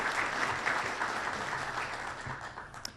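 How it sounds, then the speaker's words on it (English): Applause from a luncheon audience at Lakewood Ranch Country Club, steady clapping from a moderately sized crowd at a middling distance for about three seconds. "Let's give them a round of applause."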